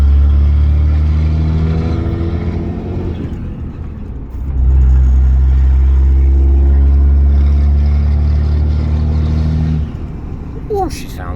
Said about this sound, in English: Let you listen to that engine.